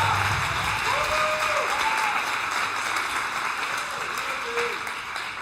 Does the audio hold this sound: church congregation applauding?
yes